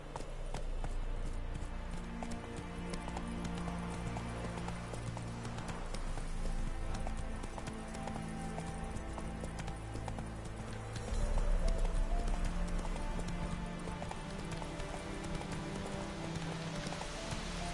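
Roach the horse gallops in Witcher 3, a steady drumming clip-clop of hooves running under game music and ambient rain, with a louder burst of hoofbeats near the end.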